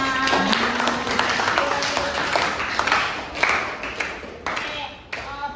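A room of students claps together at a school counselling session, an uneven patter of hands over a busy, echoing background with a few scattered voices.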